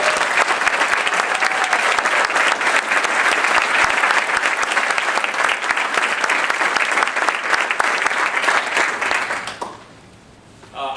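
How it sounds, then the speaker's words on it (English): A large crowd at a military retirement ceremony applauds, loud, dense clapping that holds steady for about ten seconds before cutting off abruptly, leaving a short quiet gap. "round of applause for Bob."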